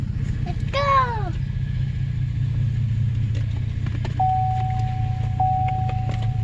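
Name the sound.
2014 Chevrolet Silverado truck driving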